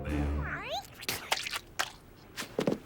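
A cartoon cat in the animated series Ratz gives a short rising-and-falling meow, followed by a person speaking nearby.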